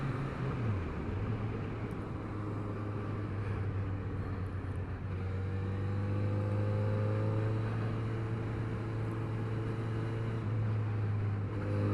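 Kawasaki Z900RS motorcycle in second gear with its engine pulling hard toward 7,000 to 8,000 rpm, a steady droning engine note that climbs and holds under heavy wind rush for several seconds, no talking.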